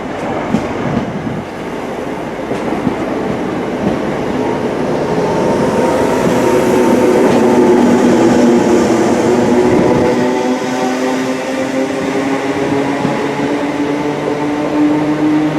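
British Rail unit 319 377 rolls past on its way to the depot near Liverpool, a steady, loud rumble of wheels and carriages with faint clickety-clack that holds for the whole passage.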